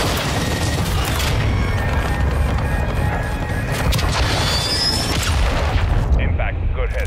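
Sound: airstrike explosions in Call of Duty Modern Warfare 2 video game

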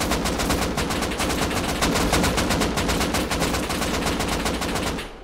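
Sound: gunfire in the video game Rust

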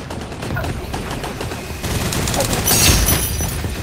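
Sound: gunfire in the video game Gun Raiders

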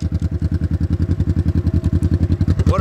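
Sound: 1970 Honda CL450 motorcycle engine, modified factory exhaust

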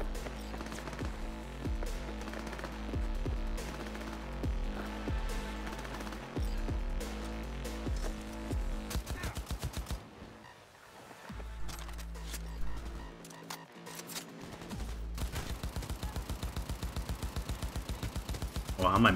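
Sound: gunshots in video game Cyberpunk 2077

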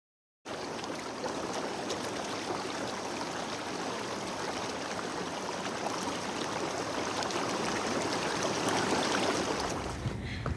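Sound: water draining out of an inflatable hot tub through a hose

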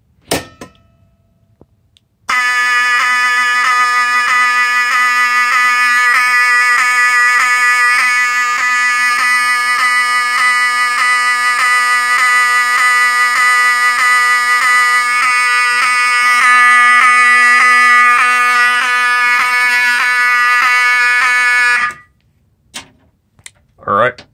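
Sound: fire alarm sounding

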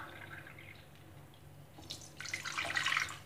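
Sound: water being poured into a pot to make rasgulla syrup

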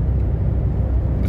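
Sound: VW Lupo car driving on a country road

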